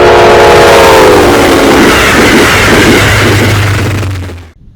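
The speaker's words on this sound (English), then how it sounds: "Today's westbound Sunset Limited is led by Amtrak 15." Amtrak 15 leads the westbound Sunset Limited past at close range. A loud horn blast opens the passage, then a heavy rolling rumble follows and fades away.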